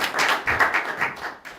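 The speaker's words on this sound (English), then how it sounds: "Round of applause for making it here." Audience clapping at a conference, a short burst of hands striking in uneven rhythm that swells and fades over a second and a half, close and fairly loud.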